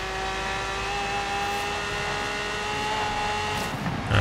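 A race car engine at full throttle in the video game Forza Horizon 3, on the Goliath track at top speed, sustains a loud steady high-pitched drone, with a brief shift in tone near the end.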